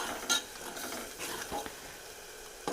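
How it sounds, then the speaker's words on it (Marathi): A ladle stirs curd into peanut amti in a metal pot, giving soft scraping and a few light clinks over a faint background hiss, quiet and close, with no voices. "एकच पळी दही टाकून त्याला असं हलवून घ्यायचं"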